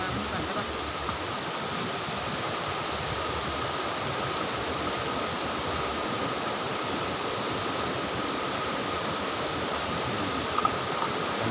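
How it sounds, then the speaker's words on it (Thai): Takhro Waterfall and a fast-flowing stream swollen in the rainy season make a steady, dense rushing roar, loud and unbroken throughout with no voices. "น้ำไหลเชี่ยวมากเลย เพราะว่า มันเป็นช่วงที่ ฤดูฝนแบบฝนตกชุกนะครับ"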